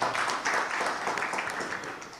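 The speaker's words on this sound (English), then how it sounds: "A big round of applause for her" Audience applause for a woman receiving a social leadership award at a formal ceremony, steady dense clapping filling the whole moment, moderately loud and fading slightly toward the end.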